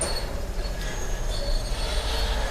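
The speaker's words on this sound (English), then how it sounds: "If you're wondering what that godforsaken sound is, it's that gate opening." A long, high metallic squeal grinds on steadily over a low rumble as a heavy metal gate slides open on a Bushwick, Brooklyn street, loud and close with no pauses.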